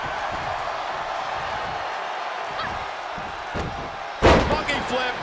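A bulldog slam in the WWE 2K23 wrestling game lands as one sharp, loud impact late in the clip. A steady crowd roar and arena noise run throughout, and a brief yell rises just after the hit.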